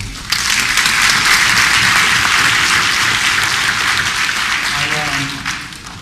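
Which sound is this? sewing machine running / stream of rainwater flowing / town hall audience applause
town hall audience applause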